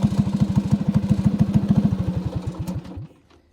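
A small go-kart engine runs with a fast, loud, close putter that gradually slows and winds down before cutting out near the end, leaving near silence.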